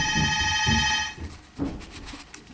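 A telephone rings indoors with a bright electronic tone that sounds loud and close for about a second, then cuts off into quieter room sounds.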